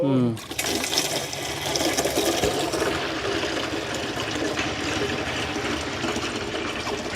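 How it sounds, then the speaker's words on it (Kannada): Water from a tap pours steadily into a bottle at a Tibetan camp, a continuous rushing, gurgling flow that starts after a brief voice and runs evenly to the end. "ಇಲ್ಲಿ ನೀರು ತುಂಬಿಸ್ಕೊಂಡವರು ಈ ರೀತಿಯಾದಂಥ ಕ್ಯಾಪ್ನ ಮುಚ್ಕೊಂಡು ತೊಗೊಂಡೋಗ್ಬೇಕು"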